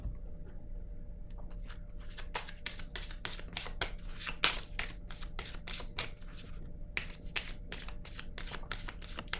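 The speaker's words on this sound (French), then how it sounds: "Je vais piger une autre carte" Playing cards handled in a card-reading session, a rapid run of crisp riffling snaps and slides as a card is drawn from the deck, fairly close and steady, with no talking.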